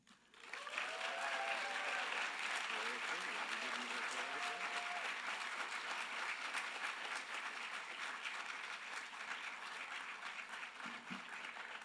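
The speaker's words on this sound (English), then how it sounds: "Let's give another round of applause to Molly and Steve." Sustained audience applause fills a hall at an equity awards ceremony, a dense steady wash of many hands clapping that swells quickly and holds loud for the whole stretch, with faint voices mixed in.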